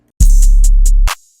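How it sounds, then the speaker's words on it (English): Triangle hits in a hip-hop beat, four or five bright metallic pings spaced evenly over a loud deep bass tone, ending with a sharp accent that rings out as the low end cuts off, with no talking. "Then I added a triangle to hit on the 1 and in between the 4 and the 5."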